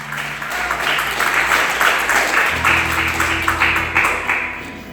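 Congregation applause in a church service, a steady wash of many hands clapping at close range, held over a low sustained organ or keyboard drone that swells partway through.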